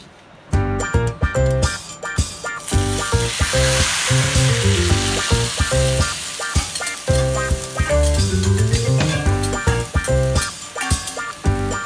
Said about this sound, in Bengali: তেলটা গরম হয়ে গেছে, এখন আমি মাছগুলোকে এখানে দিয়ে দিচ্ছি।